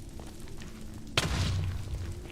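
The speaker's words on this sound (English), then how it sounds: "Yeah, that explosion sucked." An explosion in the Minecraft video game lands as a single sudden boom with a rumbling tail over a steady game background hum, loud and close.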